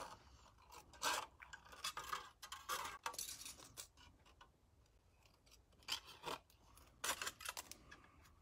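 Scissors trim a piece of shrink plastic up close, with a run of quiet, crisp snips in small clusters separated by brief pauses.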